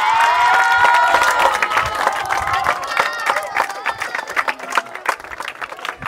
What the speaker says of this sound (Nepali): यसमा फेरि ताली बजाइदिन्छु एकचोटि।